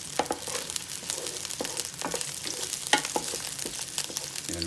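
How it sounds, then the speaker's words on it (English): Onions and garlic frying in oil for a pork neck bone stew, steady sizzling under frequent close scrapes and knocks of a spoon stirring the pan. "I'm just going to stir this up a minute, let them get a little brown and everything"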